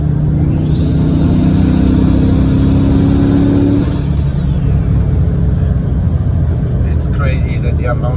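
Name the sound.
Audi RS4 B7 single turbo spooling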